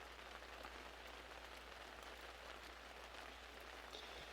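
Steady rain falls outdoors at a rural mountain spot where meat is being grilled, a dense even hiss with soft scattered drops. It continues unbroken and moderately quiet throughout, with no voices.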